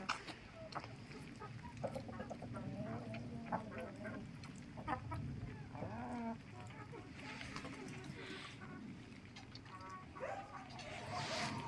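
Chickens cluck and a Wyandotte rooster calls faintly in the background while a person talks nearby, the birds fairly distant.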